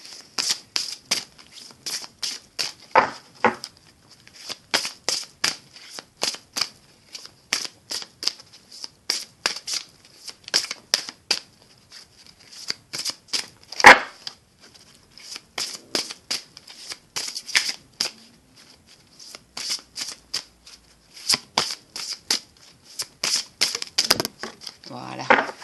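Tarot cards are shuffled over and over in quick riffling, slapping bursts close to the microphone, a rhythmic pattern of short crisp flutters with brief pauses, one sharper tap midway, and no speech.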